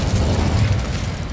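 The Incendio fire spell is cast in Hogwarts Legacy as a loud, dense burst of fiery rumble and crackle that sustains throughout, heavy and boomy with no talk over it.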